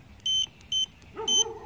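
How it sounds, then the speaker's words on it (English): A multimeter set to continuity, testing the cargo and dome light wiring on a 1989 Jeep Cherokee, gives three short electronic beeps, close and fairly quiet, with a faint tone under the last. "they beep, showing that you have continuity"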